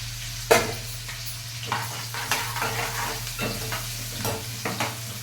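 Onions fry in a pan for a goat head curry while being stirred with a spoon, giving a steady close sizzle broken by repeated scraping strokes, with no talking.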